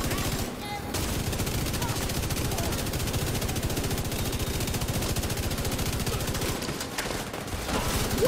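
Dense, rapid automatic gunfire from The Division 2, a shooter video game, rattles on almost without pause for the whole stretch, loud and close, with only a brief thinning of the bursts near the end.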